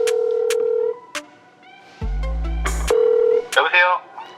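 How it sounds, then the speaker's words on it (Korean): A telephone is dialed to call a loan company's representative, with steady dial tones and short keypad beeps, loud and close, with a voice speaking in between. "동두천 대출 업체 대표자한테 지금 전화를 하고 있는 거예요."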